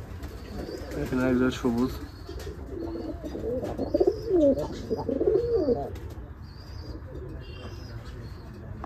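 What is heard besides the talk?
pigeons cooing at a pigeon farm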